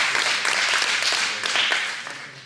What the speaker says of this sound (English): Big round of applause to Dallas back here.